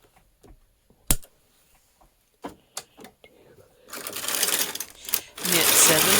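A domestic knitting machine carriage runs across rows, starting with sparse clicks and clacks, then breaking into loud, rushing mechanical sweeps near the end, with brief speech between.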